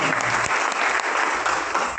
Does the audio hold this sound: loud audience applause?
yes